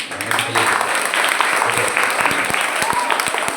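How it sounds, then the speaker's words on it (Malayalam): An audience of children and adults claps together at a church celebration of St. Mary's day, a dense burst of applause filling the space with some voices mixed in. "മുതിർന്നവർ എല്ലാവരും കയ്യടിക്കും"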